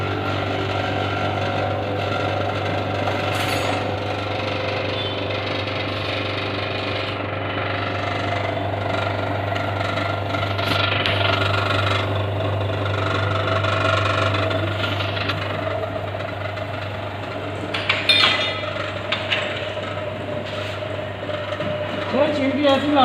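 A vacuum pump evacuates the AC system of a BMW 320i/325i after an evaporator replacement, before an R134a gas recharge. It makes a loud, steady mechanical drone throughout, with occasional clatter from nearby work.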